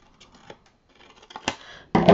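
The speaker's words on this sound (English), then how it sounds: "we're going to cut across here" Scissors snip across craft paper for a keepsake box, giving a few short, close crisp cuts that end in a louder final snip, with no voices.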